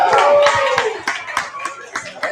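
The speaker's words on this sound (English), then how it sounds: "And a round of applause for Amelia." A brief round of applause for a speaker at a virtual Founders Live Seattle event: a few sharp, uneven claps over a couple of seconds, sparse and close rather than a large crowd, following a voice at the start.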